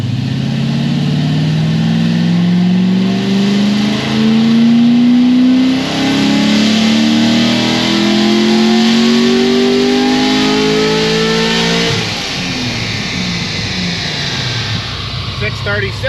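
Stage 4 Corvette C6 Z06 engine at full throttle on a dyno, a loud rising roar climbing steadily through the revs for about twelve seconds before cutting off abruptly and settling into a lower idle.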